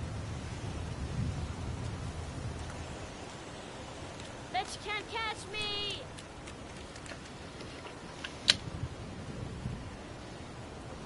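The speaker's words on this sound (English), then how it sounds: "It's pouring rain." Steady rain pouring in the video game Heavy Rain, a soft continuous hiss of rainfall with a few short spoken lines and sharp effects over it, fairly quiet throughout.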